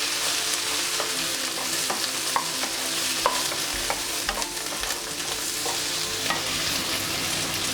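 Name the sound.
stirring turmeric into frying cabbage chutney mixture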